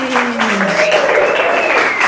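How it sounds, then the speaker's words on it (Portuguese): Audience applause at the Cyber Conecta stage as a gynecologist guest is welcomed, continuous crowd clapping with a voice speaking over it. "Mais palmas"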